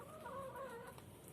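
Hens clucking close by in a steady, busy flock chatter, with a faint background hum and no voices.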